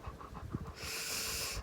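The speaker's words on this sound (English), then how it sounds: "This is my dog, Dasha." A pet dog panting close to the microphone, quick rhythmic breaths at first, then a steadier hissing rush of breath for the rest of the moment.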